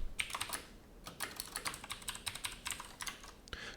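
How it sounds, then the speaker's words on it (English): Computer keyboard keys are tapped in quick irregular bursts, a rapid series of crisp clicks at close range with a brief pause near the start, quiet and with no talking. "Maybe my keyboard doesn't frickin' work."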